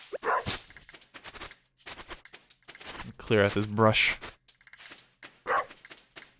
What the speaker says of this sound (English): What are you barking at, dude? You barking at this tree?